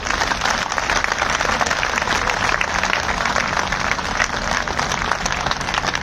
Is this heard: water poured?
no